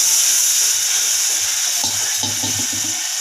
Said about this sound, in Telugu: ఆ చారును దీంట్లో వేసేసుకోవాలి